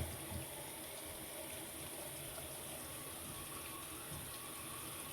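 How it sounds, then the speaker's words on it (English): Water pours steadily into a shaving bowl in a constant, even gushing stream. It runs close to the microphone for the whole stretch and sounds fairly loud, with no voices over it. "I'll add the water slowly and surely into the bowl, a little by little"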